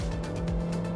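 A high-mileage Honda Fit with a DCT gearbox drives a lap of Fuji Speedway, its engine droning steadily and fairly loudly in a brief stretch, with no talk.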